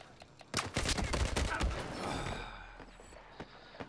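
Rapid bursts of gunfire crackle through a multiplayer war game firefight, loud and dense for about two seconds before thinning into scattered distant shots under a low rumble.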